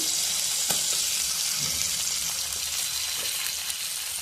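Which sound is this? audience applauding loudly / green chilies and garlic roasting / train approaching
green chilies and garlic roasting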